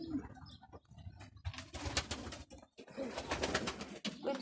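Domestic pigeons coo softly in a breeder's loft, including silver and Budapest breeds, with repeated low throaty calls overlapping in a quiet, close indoor space, with faint rustling between them.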